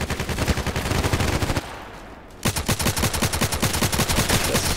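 Rapid automatic gunfire in the shooter Contract Wars, with steady bursts of shots, a brief pause in the middle, then another sustained burst at moderate loudness.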